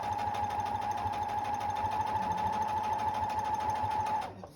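A sewing machine stitches quilt fabric, snowballing the corners on a scrappy heart quilt. It gives a steady, close, whirring hum with a fast mechanical pulse that runs continuously and stops just before the end.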